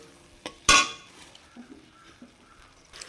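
A spoon scrapes and clinks against a pan while cumin-turmeric spice paste is stirred for a vegetarian cabbage curry. One sharp metallic clatter is followed by softer, intermittent scraping and light taps in a quiet kitchen.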